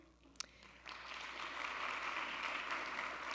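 Applause rises from a university audience at a State of the University address, starting faint and swelling into steady, sustained clapping after a sharp early clap or two, moderately distant.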